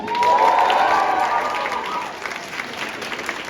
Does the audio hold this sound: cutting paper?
no